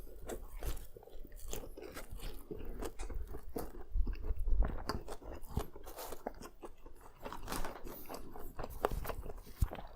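Close, crisp crunching bites and steady chewing of a shrimp pizza with the shrimp tails left on, repeated crunches throughout with no talking.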